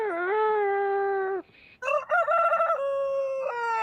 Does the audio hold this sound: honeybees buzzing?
no